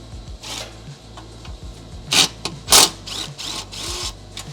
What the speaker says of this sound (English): you remove these two hanger bolts. They use a 12mm socket to remove.